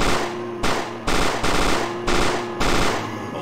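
Rapid automatic gunfire in a Resident Evil: Containment zombie fan game, loud bursts broken by short pauses, about five strings of shots in quick succession.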